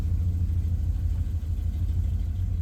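A 1978 Ford F-250 truck engine rumbles steadily while driving, a dense low-pitched drone heard from inside the cab, continuous and without speech.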